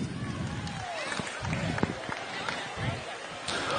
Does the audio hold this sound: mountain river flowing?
no